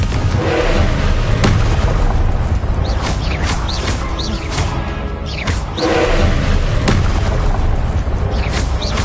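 Loud Confringo blasting-spell explosions in Hogwarts Legacy, a steady barrage of booming bursts that keeps up with hardly any pause, close and powerful, layered with roaring impact noise and some whooshing.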